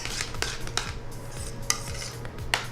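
A utensil stirs food in a kitchen pot, giving soft scraping swirls with a few sharp clinks against the metal, close and fairly quiet, with no one talking.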